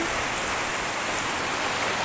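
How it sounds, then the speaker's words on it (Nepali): Heavy rain falls outdoors in a steady, dense hiss of drops that stays loud and unbroken throughout, with no voices. "पानी परेर"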